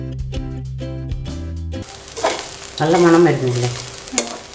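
Chammanthi podi with crushed pepper roasting in a pan and stirred by hand, starting with a steady sizzle and then scraping stirs, while someone talks briefly over the cooking.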